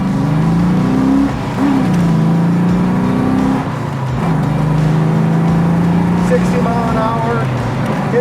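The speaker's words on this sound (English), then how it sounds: "Into fourth gear, drop it down, fifth, and there's your sixth" A 1969 Ford Mustang restomod with a swapped motor accelerating through the gears, the engine note droning and climbing in pitch, dropping at shifts, heard loud from inside the car while someone talks over it.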